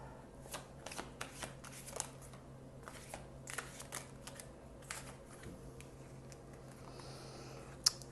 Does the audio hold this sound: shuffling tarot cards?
yes